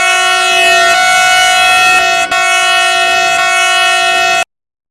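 A passenger express train in the Democratic Republic of the Congo, bound for Lubumbashi, sounds a loud, sustained horn chord close by. The blast holds steady for several seconds, then cuts off abruptly.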